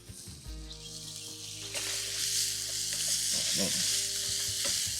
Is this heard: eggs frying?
yes